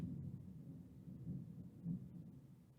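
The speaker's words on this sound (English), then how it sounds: "that's the thunder and the elements agreeing with that" Low distant thunder rumbling in slow swells, faint and muffled with no talking.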